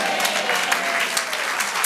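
A church congregation applauds the Lord in a steady, dense burst of many hands clapping together, sustained and fairly loud without a break.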